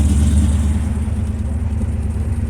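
A 454 Big Block Chevy V8 in a Crash-10 truck idles steadily in the cold, a loud, close, continuous low rumble with no pauses.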